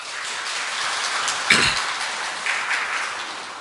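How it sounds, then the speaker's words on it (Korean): Congregation applause in a church after an instrumental piece, a soft patter of scattered clapping at moderate distance, broken by a single sharp knock partway through. "큰 격려의 박수 부탁드립니다"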